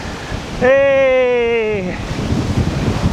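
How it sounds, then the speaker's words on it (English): Strong wind buffeting a bicycle rider climbing uphill, a broad rushing roar interrupted by a long shouted voice, then gusting back in uneven bursts. "Going uphill against the wind."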